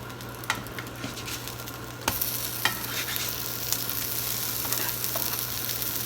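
Blueberry pancakes sizzle steadily in a pan, a broad frying hiss with occasional small pops; the sizzle grows louder and brighter partway through and holds close and continuous to the end, with no voices.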